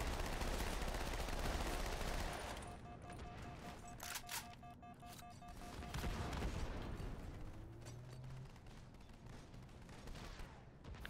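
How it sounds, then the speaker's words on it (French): Sniper rifle shots in a Halo match, sharp reports with mechanical clicks amid busy game noise, heard at moderate distance. "J'entends un sniper là-bas?"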